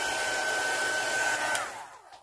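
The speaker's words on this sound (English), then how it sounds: "I'm just going to dry off the ink." A hair dryer or heat tool drying ink on a thick rubber stamp, the Indigoblu Big Butterfly stamp, blows with a steady close whir before winding down to silence.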